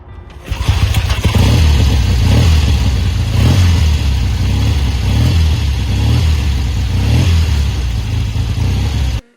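A vintage Triumph motorcycle engine starts and then idles loud and close, giving a steady throbbing rumble with slight rhythmic surges throughout and no speech.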